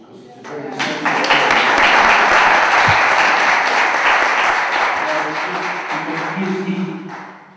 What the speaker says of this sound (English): I think we should give him an applause